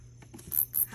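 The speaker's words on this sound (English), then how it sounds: "Is there a cricket there you're trying to kill?" A cricket chirping indoors near cats, two brief high-pitched trills close together, with faint rustling between them and no talk.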